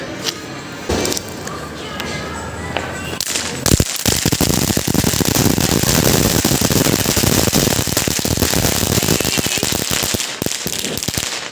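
A long, loud string of Diwali firecrackers pops and crackles in rapid, continuous bursts, with voices shouting nearby.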